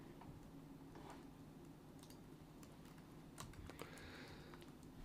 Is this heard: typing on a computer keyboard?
yes